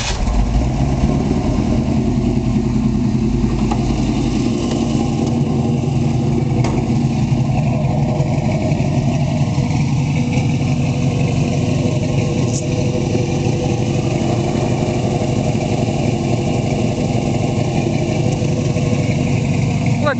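A 1968 Ford Mustang Fastback V8 idles steadily up close, a loud, continuous low rumble with slight uneven pulsing and no speech over it.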